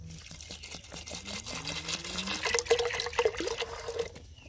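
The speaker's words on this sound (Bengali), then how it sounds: "এবার পরিমাণ মতো জল দিয়ে দেব।" Water poured into a pressure cooker while making egg tadka, a continuous trickling splash whose pitch rises as the pot fills, fairly close and with no talking.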